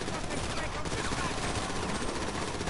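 Sustained gunfire crackles in GTA 2, a dense continuous rattle of shots filling the scene at steady loudness with no pause.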